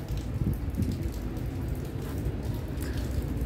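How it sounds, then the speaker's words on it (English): Steady rain falls on the 24th-floor rooftop of a hotel sky bar in Patong, Phuket, a dense, continuous hiss with scattered drops tapping nearby, with no voices. "It's still raining, so we just hang around a little here."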